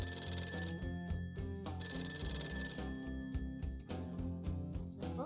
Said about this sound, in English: The phone. Why don't you answer it for him?